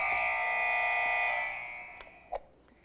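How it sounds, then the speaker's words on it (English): A loud, steady electronic buzzer drones for about a second and a half, then fades away, leaving a couple of faint clicks. "All right, and we've got a buzzer on Joey."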